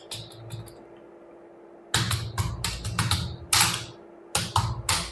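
A computer keyboard types a header in MS Word, with a brief burst of keystrokes and then rapid clusters of clicky taps after a pause, close and clear with no voices.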